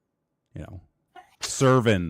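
A single quick sneeze bursts out in a live podcast studio, followed at once by a voice talking close to the mic.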